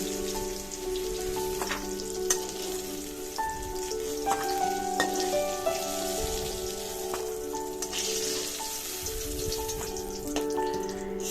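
Hot oil crackles and sizzles in a pan as a bay leaf split in two goes in, a steady close fizz with faint pops and a few light clinks, with no voices.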